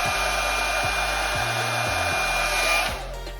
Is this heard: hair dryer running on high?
yes